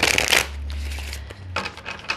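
Tarot cards are shuffled close by in quick riffling bursts, first a dense burst of flicking and then a second shorter run after a pause.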